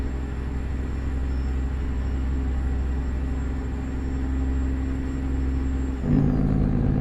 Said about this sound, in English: Listen to that lovely Jake brake on here.